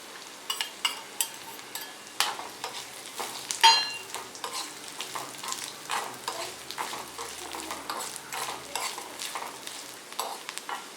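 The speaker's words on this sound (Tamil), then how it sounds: "இப்போது தேங்காய் துண்டை போட்டுக்கலாம்." Coconut pieces fry in a pan of fat while being stirred for a Tamil paruppu payasam, producing close sizzling and crackling with repeated scraping stirs and occasional utensil clinks, no voices.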